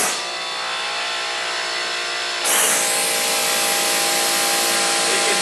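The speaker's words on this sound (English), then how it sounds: "So it works like a pressure washer," A low-pressure washer sprays water onto cooling tower fill with a loud, steady hiss, which jumps brighter and stronger partway through and then holds.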